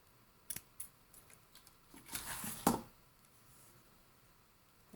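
Scissors snip through ribbon for a washi tape gift tag, a couple of quick crisp cuts close by with a longer rustling slice near the middle, then quiet handling.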